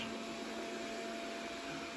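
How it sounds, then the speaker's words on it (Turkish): A vacuum cleaner runs in the background indoors, giving a steady, even whine and hum that holds at moderate level without change, no speech over it. "Bu arada süpürge çalışıyor."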